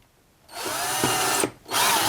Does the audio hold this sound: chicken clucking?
no